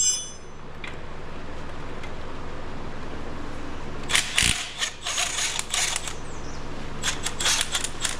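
An impact wrench rattles in short bursts on a fine-thread bolt of a Farmall Super A tractor, loud and close against a quiet shop background.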